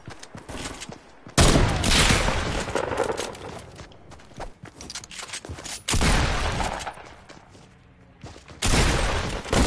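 Gunfire in the Fortnite Battle Royale video game: loud bursts of rapid automatic shots come in several separate volleys, with quieter game sounds and gaps between them.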